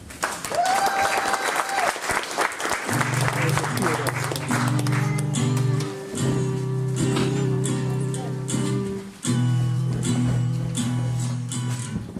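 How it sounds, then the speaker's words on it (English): Applause and cheering from a crowd while a band starts up with a steady sustained organ-like tone and beat over it. "round of applause"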